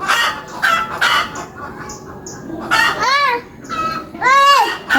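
Chickens cluck and squawk repeatedly up close, several loud arched calls in quick succession with short gaps between them.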